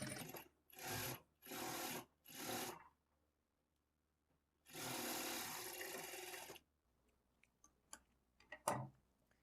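A sewing machine stitches a blouse seam at a half-inch margin in four short even bursts, then one longer run, followed by faint ticks and clicks of the mechanism, close and alone.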